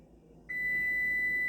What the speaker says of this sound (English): as you can hear, our timer went off